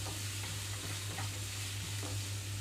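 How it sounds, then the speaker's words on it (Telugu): Grated beetroot fries in a pan with green chillies, a steady close sizzle with a low hum underneath and faint scrapes of stirring, with no talking. "పచ్చిమిరపకాయలు కూడా వేగినాక ఇక్కడ నేను బీట్రూట్ తురుమంతా కూడా ఇందులోకి వేసేస్తున్నాను"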